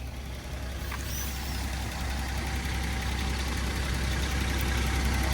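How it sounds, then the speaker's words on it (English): A 1983 Datsun 280ZX GL with original miles idles steadily nearby, a constant low rumble with an even mechanical hum and no voices. "Keeps nice temperature while idling. Holds a nice idle."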